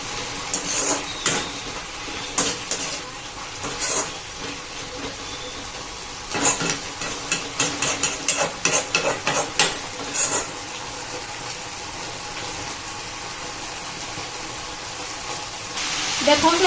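Drumstick leaves being stirred and fried in a pan, with a soft sizzle under repeated sharp scrapes and clinks of a spoon against the metal, irregular bursts of stirring over several seconds.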